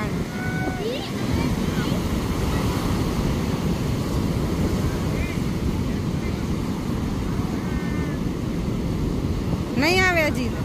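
Sea waves wash onto the beach at Somnath in a continuous, breezy rush with wind across the microphone, while voices chatter faintly and a child calls out near the end.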